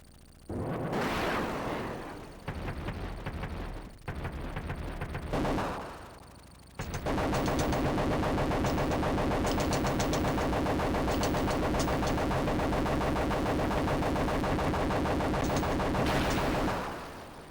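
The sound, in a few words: gunfire from video game Desert Strike, Sega Genesis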